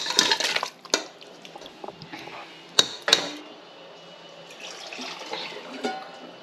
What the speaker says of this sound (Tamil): மீதியும் வேறு தண்ணி ஊற்றணும்